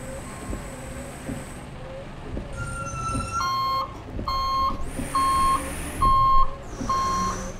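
A parked cargo truck's alarm beeps loudly beside a roadside, a series of sharp, evenly spaced electronic tones over a low engine idle and traffic hum, joined by higher shrill warning tones.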